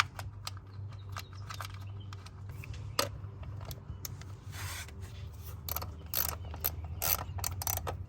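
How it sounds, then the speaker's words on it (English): A ratchet wrench snugs down 8mm bolts on a Ford Expedition during spark plug replacement, its quick clicking bursts close and clear over a low steady hum, repeating in short runs. "And now we've just got to reinstall these 8mm bolts."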